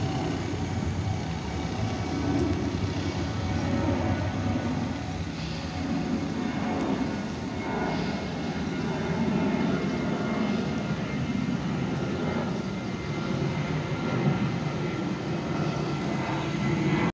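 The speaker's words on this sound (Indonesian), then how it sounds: "Wah ini ada pesawat kawan, naik kawan." A fixed-wing airplane climbing out after takeoff from Cilik Riwut airport in Palangkaraya, a steady broad engine roar heard from a distance through outdoor noise, sustained and even for the whole stretch with no talking.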